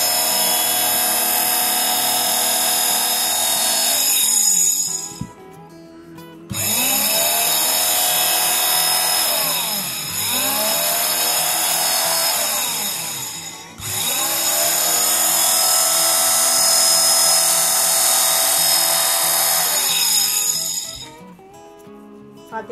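A multi-material electric cutting machine cutting a shape, a loud high-pitched whining motor buzz in several long runs of a few seconds each, broken by short pauses, with pitch sweeping as it moves through the material.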